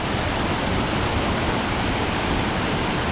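A powerful waterfall swollen into flood after a storm pours down in a dense, continuous roar, loud and close, with no voices over it.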